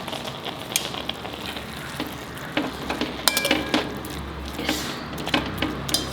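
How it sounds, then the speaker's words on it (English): Dry fruits roast in ghee in a small pan over a low flame, giving a soft steady sizzle with scattered sharp ticks and scrapes from stirring. "Keep it on low flame to roast my dry fruits with ghee."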